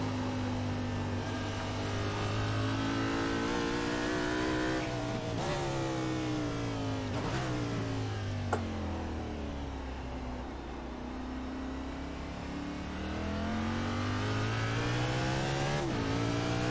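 Race car engine in an iRacing NASCAR Cup race at Sonoma, revving and easing under smooth, steady throttle with rising and falling pitch sweeps, loud and continuous throughout with no talk.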